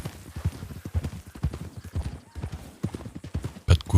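Wild horses' hooves clip-clop in a quick, uneven rhythm of close, loud thuds, with a short burst of snorting or whinnying near the end.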